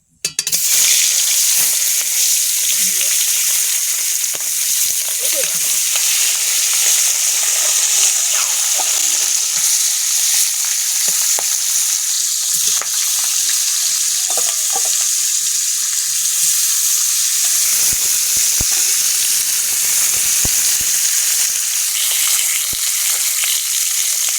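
Pond fish frying in a pan of hot oil with turmeric and chilli powder, a steady dense sizzle running close and loud throughout with occasional faint clinks, no voices.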